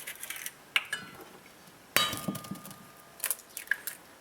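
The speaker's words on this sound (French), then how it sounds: "Alors je casse mes œufs dans le sucre." Eggs cracked against a bowl and dropped into sugar for a genoise sponge batter for a Yule log cake, with a few sharp shell taps and clinks standing out in a quiet kitchen.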